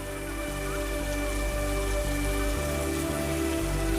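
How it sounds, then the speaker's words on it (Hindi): Steady rain falls on surfaces as a continuous dense hiss, loud and unbroken throughout, with a faint low tonal hum underneath. "ऊपर से बारिश भी हो रही है"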